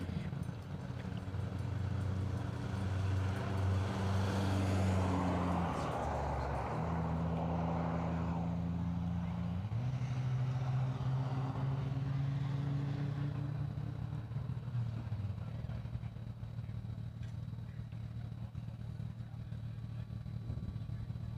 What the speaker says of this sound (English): Dalen's driving a 1995 Toyota Camry